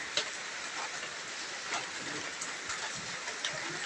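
Light rain falls steadily on a tarp-covered pig pen, a soft continuous patter with faint scattered drops, no voices.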